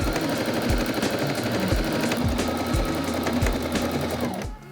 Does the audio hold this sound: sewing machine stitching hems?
yes